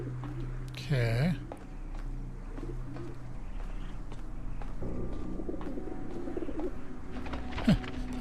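Pigeons coo in The Talos Principle video game, a low warbling call rising and falling near the start, then fading into a steady ambient hum with a brief second coo near the end.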